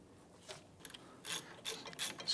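A gear wrench ratchets on the bolts of a rear strut assembly on a 2005–2007 Ford Five Hundred, giving short bursts of quick metallic clicking, close and fairly quiet.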